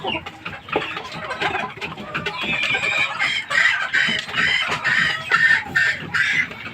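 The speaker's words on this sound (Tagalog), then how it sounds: "Dalawang inahin din to nandito." Hens cluck and chatter continuously close by, overlapping throaty calls rising and falling with no pauses or speech.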